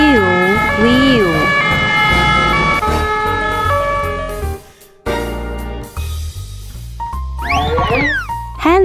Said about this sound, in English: An ambulance goes wheel wheel.